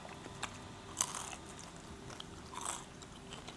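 Biting into a homemade Terengganu keropok lekor fish cracker gives a few quiet crisp crunches, spaced across a short stretch with soft background noise and no talking.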